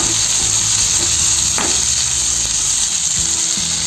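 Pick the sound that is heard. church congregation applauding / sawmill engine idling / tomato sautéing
tomato sautéing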